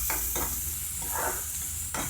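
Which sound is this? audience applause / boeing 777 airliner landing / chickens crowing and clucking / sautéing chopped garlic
sautéing chopped garlic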